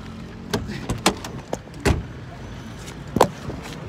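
A car door opens and thumps shut as someone gets out of a car at a night carnival, with a few sharp knocks and clicks spread over a few seconds against a steady low background hum.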